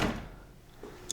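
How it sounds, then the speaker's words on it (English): A bathroom sliding door in a Walt Disney World Coronado Springs resort room slides with a short rumbling swish at the start, followed by a soft bump and a faint click near the end. "And it's got these pretty cool sliding doors."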